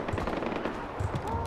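Gunfire in the Far Cry 4 video game, rapid bursts of automatic shots rattling at moderate distance across the short stretch, fairly faint and without speech.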